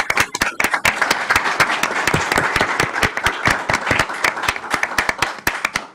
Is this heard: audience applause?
yes